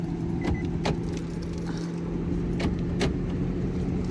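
Keys jangle in bright metallic bursts while someone tries to lock a car door, with several separate rattles spread across a steady low vehicle hum.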